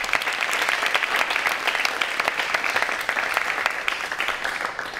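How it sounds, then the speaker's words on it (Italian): An audience applauds at a 50th-anniversary celebration of a women's association chapter on Capri, a steady dense wash of clapping from a close crowd that holds for the whole stretch without pause. "Ancora un applauso per Elio."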